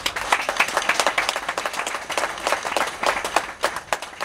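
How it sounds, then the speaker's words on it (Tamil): An audience at a public talk claps and applauds together, a dense, steady patter of many hands that stays loud for several seconds with bursts of stronger clapping. "இதுக்கே நீங்கள் கைத்தட்டுறீங்களே"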